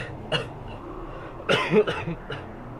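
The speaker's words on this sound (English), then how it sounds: "a bit of coughing" A few short coughs and a throat clear, close to the mic, in quick bursts with quiet pauses between.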